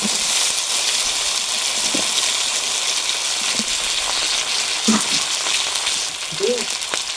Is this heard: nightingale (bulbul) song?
no